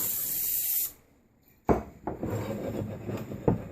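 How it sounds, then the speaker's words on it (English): A can of cooking spray hisses onto a cake pan in a short close burst, followed by a pause and then clattering, rustling handling sounds. "I'm just gonna spray a cooking spray on it"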